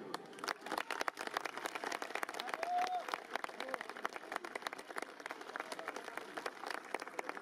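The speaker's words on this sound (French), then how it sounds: "Je voudrais également qu'on applaudisse les trompettes." Audience at a festive brass band event applauds the trumpeters with steady, dense clapping that holds evenly throughout, moderately close, with some crowd noise mixed in.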